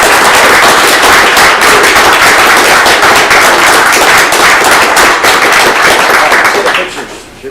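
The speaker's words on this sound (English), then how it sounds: "let's clap, and we're going to clap for Mary" Loud, sustained audience applause at a city council meeting honoring Mary, dense clapping from a full room that holds steady for several seconds before tapering off at the end.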